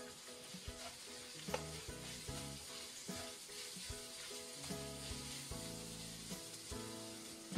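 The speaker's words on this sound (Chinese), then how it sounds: "先下入蒜苗的根部，快速的翻炒2下，" Shredded pork and garlic sprout stems crackle and sizzle in a hot wok, with repeated scraping strokes of a spatula tossing them in a quick, uneven rhythm; close, steady frying with no talk.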